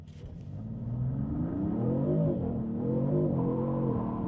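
A 2026 Dodge Sixpack two-wheel-drive car accelerates hard from a standstill with its wheels spinning. The engine note climbs loud and close, steadily rising and wavering in pitch throughout, with no talking.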